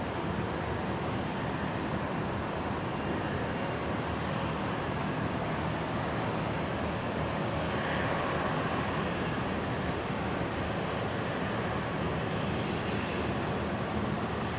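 An Air New Guinea Fokker 100 airliner from Port Moresby landing on runway 01 left at Brisbane International Airport, heard as a steady, loud, broadband roar of jet engines and rushing air that holds throughout with no voices.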